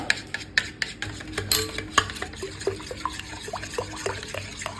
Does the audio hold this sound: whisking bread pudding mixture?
yes